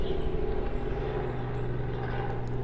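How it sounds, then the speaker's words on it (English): Helicopters fly overhead, giving a steady droning rumble with faint rhythmic rotor beating that holds at a constant moderate level throughout, with no talking. "I apologize for the helicopters here."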